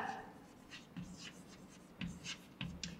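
Marker or chalk strokes on a classroom board during a Class 4 math lesson, a few scratchy strokes in short bursts, fairly faint and with no talking.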